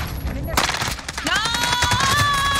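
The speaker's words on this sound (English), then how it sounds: "Why does that Mag 10 shoot like that?" Mag 10 shotgun firing in an online shooter video game, a rapid burst of sharp blasts over game effects, followed by a rising tonal whine, with players talking during the action.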